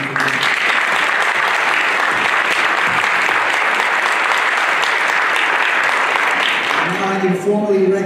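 Audience applause after council members and a school board representative are thanked at a community gathering, a steady, dense clapping that fills the room and holds strong before tapering off near the end.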